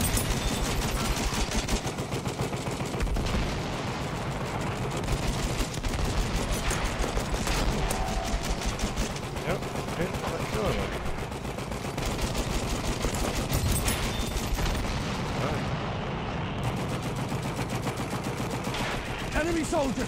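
Dense, rapid gunfire in the video game Battlefield 1 rattles almost without pause for the whole stretch, with machine-gun bursts and scattered shots layered together, loud and close.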